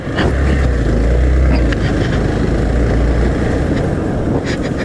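Hero Xpulse 200T motorcycle ridden off road: a loud, continuous engine drone with low rumbling pulses, heavily buffeted by wind noise throughout.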